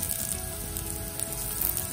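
Plantain and egg frying together in a pan, Kannur style, give a steady, even sizzle with a soft crackle that continues without pause, close and moderately quiet.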